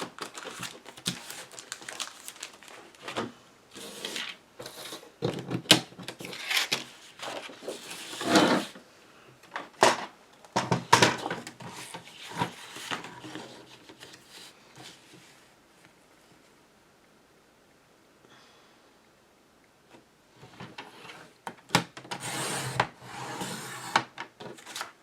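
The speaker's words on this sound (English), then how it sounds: "Let me cut out this holly border here real quick." Scissors cutting out a paper holly border for a craft tag pocket, with irregular bursts of snipping and paper rustle close up, pausing briefly midway before resuming.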